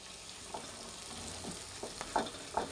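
Marinated chicken pieces sizzle softly in a hot pan while being sautéed for biryani, a low steady frying hiss broken by a few faint stirring clicks and pops.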